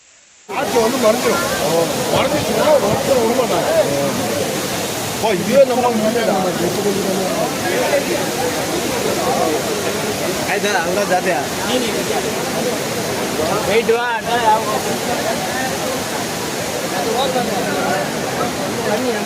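Loud, steady roar of the Courtallam waterfall, with people bathing beneath it, a dense continuous rush that fills the whole stretch and masks any voices.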